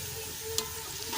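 Onion fries in oil for aloo methi matar, a soft continuous sizzle with a couple of quick stirring scrapes, close but quiet and brief.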